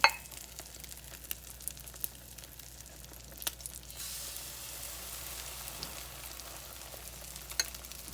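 Rice scoops dropped into a hot iron skillet set up a steady, moderately close sizzle, with a few sharp clinks of the scooper and a brief louder frying burst partway through.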